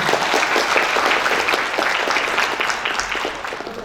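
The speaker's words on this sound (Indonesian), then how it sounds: "Tepuk tangan dong." Sustained applause from the audience at a nursing capping ceremony for D-3 nursing students, a dense, steady wash of many hands clapping at full volume throughout.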